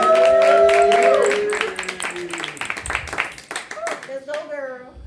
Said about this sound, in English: Clap it up for Mickey Topham, y'all.